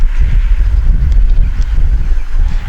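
Strong wind buffeting the microphone outdoors while a small MJX X929H nano drone flies, a loud, rumbling low roar that gusts continuously throughout.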